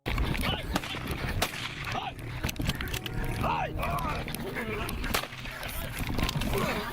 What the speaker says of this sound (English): the men continue to fire warning shots towards the animal